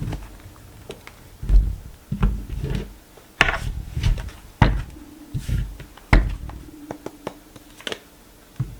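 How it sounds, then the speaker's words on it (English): Tarot cards are shuffled by hand in uneven bursts of rustling and soft slapping riffles, close and moderately loud, separated by short pauses of quiet. "Oh, what's wrong with me and my shuffling skills?"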